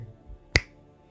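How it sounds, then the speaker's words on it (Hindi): A single crisp finger snap standing for a genie's magic in a folk tale, one sharp click near the middle of an otherwise quiet moment. "फिर जिन्न चुटकी बजाता है"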